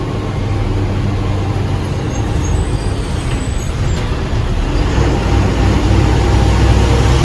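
A KSwift AC bus idles and crawls in a traffic jam at Moorad bridge, with steady, loud low engine rumble and a faint high air-brake hiss near the start, no talk.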